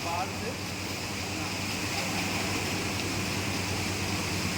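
Water rushes steadily in a broad, unbroken roar inside the Ranganayak Sagar pump house, a loud continuous wash filling the space, with voices faintly underneath.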